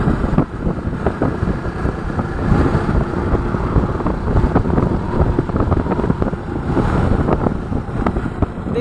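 Strong wind buffets the microphone on a mountain ride, a loud, continuous roar with rolling gusts that never lets up.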